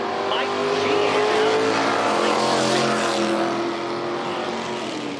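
Drag racing cars, a 1967 Plymouth Belvedere R stock automatic and a 1988 Mustang L stock automatic, idle and rumble loudly and steadily at the line, with a commentator talking over them.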